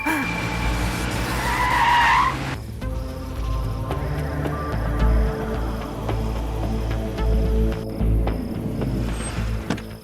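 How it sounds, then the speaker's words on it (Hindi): A car in a Hindi-dubbed movie scene skids to a halt near a house, with a sharp tire squeal and skid near the start followed by a rumbling engine and scene sound, while a voice briefly calls out early on. "शायद मास गैंग वालों के घर के पास गाड़ी रुकी है।"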